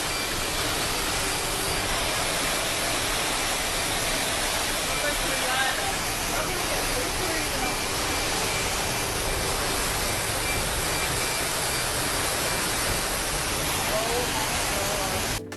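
Floodwater pouring down shopping mall escalators, a loud, steady broadband rush like a waterfall that runs unbroken throughout, with people's voices faintly under it.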